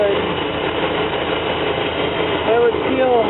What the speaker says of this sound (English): It's starting right up and it's running beautiful.